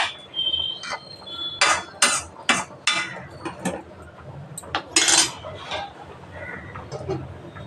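Tomatoes are cut with a knife for a fish curry, making a string of sharp, close taps and clinks of the blade on a board or plate in an uneven rhythm. A voice talks quietly underneath.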